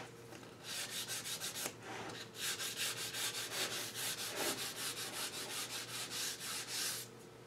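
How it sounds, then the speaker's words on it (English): Steady back-and-forth rasping of sandpaper by hand on cherry wood, close and continuous, in repeated strokes with a brief pause near the start. "more sanding."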